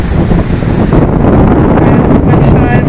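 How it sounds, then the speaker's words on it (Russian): Strong wind buffets the microphone on a beach in Tenerife, a loud, steady roar with surf rumbling beneath it for the whole stretch, no talk. "Здесь в Бахаме всегда очень сильный ветер."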